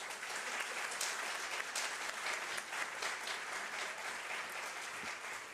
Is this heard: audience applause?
yes